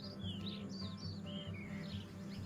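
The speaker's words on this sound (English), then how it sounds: "filling the park with birdsong." Spring birdsong in Margalla Hills park near Islamabad: several bright chirps and short whistled phrases repeat over a low steady background hum, moderately close, with no talking.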